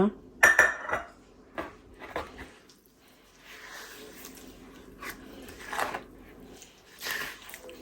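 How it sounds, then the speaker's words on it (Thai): A spoon stirs cassava dessert batter made with dried coconut in a bowl, giving a series of irregular clinks and wet scrapes with short pauses between strokes. "แล้วก็คนให้ทุกอย่างเข้ากันนะคะ"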